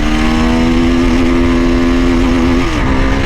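A CF Moto 300 SR motorcycle pulls hard at high revs, its loud, steady engine whine held close before dipping briefly near the end as the gear changes.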